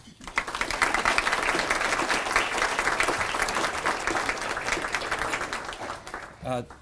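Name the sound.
audience applause welcoming speaker Ron McMullen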